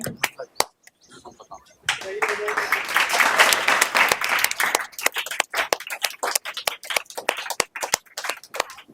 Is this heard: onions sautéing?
no